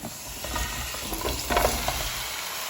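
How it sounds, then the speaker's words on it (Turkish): Potatoes fry in a pot while being stirred, a steady close sizzle with scraping stir sounds rising briefly midway, no talking. "rengi dönene kadar şöyle bir kızarma tadı gelene kadar bir karıştıracağım"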